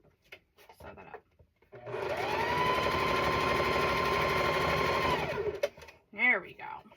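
A sewing machine stitches a Halloween-and-cat quilt block in one steady, close run of about four seconds, with a few small handling clicks before and after.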